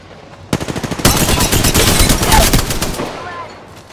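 Rapid automatic gunfire in the Apex Legends video game, a quick string of close, loud shots building into a dense sustained burst that fades out after a few seconds.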